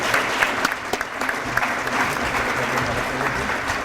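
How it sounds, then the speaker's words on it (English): At a university leadership awards ceremony honoring undergraduate President's Award recipients, an audience gives strong, sustained applause, dense and close, with scattered louder claps throughout. "let us give one more round of applause to our undergrad recipients for the President's Awards"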